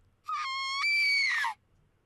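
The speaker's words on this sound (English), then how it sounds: "She screams." A girl's high, piercing scream from the Fate/stay night visual novel, a single sustained cry about a second long that wavers and falls in pitch at the end, loud and alone against silence.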